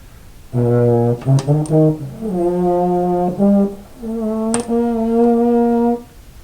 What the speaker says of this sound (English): But this is a baritone,